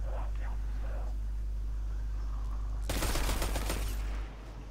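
A loud, dense blast erupts from a grenade in the video game Destiny Beyond Light, rumbling and crackling for over a second before fading, after quieter game sounds and brief talk.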